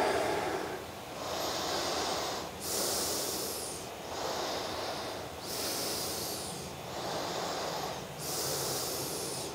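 Slow, deep breathing held in a demanding yoga pose, close and loud, with long hissing inhales and exhales repeating in a steady cycle of about six breaths.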